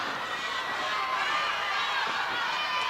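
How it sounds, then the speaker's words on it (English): A vocal wrestling crowd at the Tulsa Convention Center on a hot July night, a steady roar of chatter and cheering filling the arena, with a commentator talking over it. "what a phenomenal crowd here at the Tulsa Convention Center, and they're so vocal on this hot July night"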